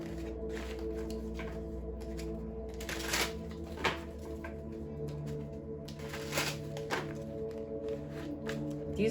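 Tarot cards being shuffled by hand, soft close riffling and slapping in irregular bursts, quiet and alone with faint background hum.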